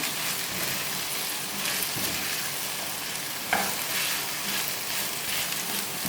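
Okra coated in masala fries in a pan, a loud, continuous rain-like sizzle heard up close, with a few faint stirring scrapes and one brief sharper knock midway, and no voices.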